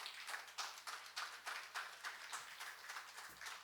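Faint, evenly paced hand claps from a small audience at an astrology event, with a regular beat of roughly three to four claps per second and no talking over them.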